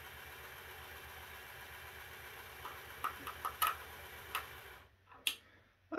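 Bachmann J11 model train locomotive running at half speed, giving a faint steady mechanical whir with light ticking clicks, quiet and close, ending in near silence.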